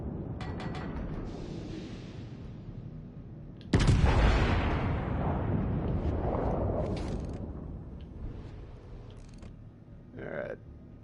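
Warship guns boom in World of Warships Legends, a heavy sudden blast cutting in after quieter rumbling, then a long rolling decay with a few smaller reports trailing off.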